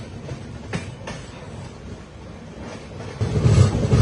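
The Bokaro Express rolls into Ongole station with a steady rumble and rattling of the carriages, growing louder and heavier toward the end as the train moves along the platform.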